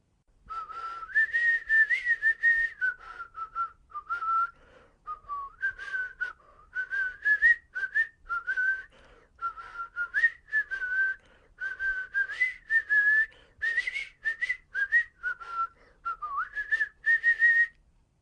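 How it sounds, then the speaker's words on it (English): A person whistles the tune "Come, Lasses and Lads" in a clear, continuous melody of rising and falling phrases with short breaths between them, heard alone and close. "He was whistling "Come, Lasses and Lads.""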